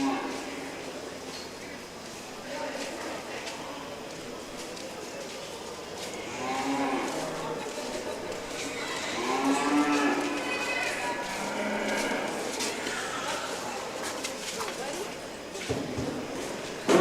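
Hereford and other beef cattle moo in long, low calls at a 4-H county fair beef show, several of them near, while hooves shuffle and an announcer talks over the arena.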